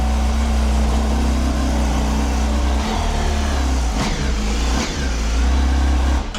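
Honda CBR1000RR-R SP sport motorcycle fitted with an SC Project exhaust, its engine running loud and close with a steady deep idle and a few quick throttle blips, no talk.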